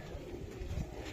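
Racing pigeons coo softly and close by in a loft, a short low murmur with no talking over it.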